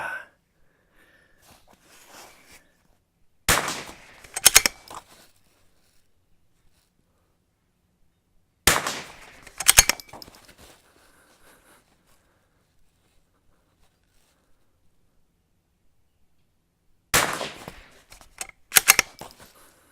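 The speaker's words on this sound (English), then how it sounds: "Trying to get that left-handed shooting down." A CZ 455 rifle is fired left-handed at a shooting range. Three separate bursts of sharp, close cracks and clicks come several seconds apart, with near silence between them and no talking.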